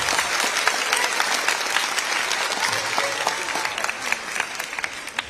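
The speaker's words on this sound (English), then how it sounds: "Please give them a round of applause for the work this year." An audience at a middle and high school band spring concert breaks into sustained applause, a dense wash of many hands clapping steadily in a hall that thins slightly toward the end.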